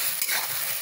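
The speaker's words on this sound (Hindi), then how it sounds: "इसको मैं चला देती हूँ" Ajwain being stirred into baingan bharta in a pan, a short, steady scraping and gentle sizzle with no voices, close and fairly quiet throughout.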